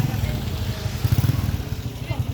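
A nearby motorcycle engine putters in a rough, pulsing rhythm that swells briefly in the middle, with voices talking over it.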